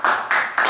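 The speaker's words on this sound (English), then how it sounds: "Everybody clap it up." A small group claps together inside a shop, a brief, dense burst of applause that swells in three quick waves, close and fairly loud, with no talking.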